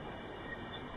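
The Nandankanan Express leaves Bhadrak railway station after a two-minute stop with a faint, steady rumble of rolling coaches and a thin high wheel whine, heard from inside the train.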